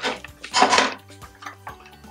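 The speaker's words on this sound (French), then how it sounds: "une fois qu'on a coupé les plantains, voilà, on met dans la casserole" Cut green plantain pieces drop into a saucepan with a burst of knocks and clatter, followed by scattered lighter taps of pieces settling against the pan.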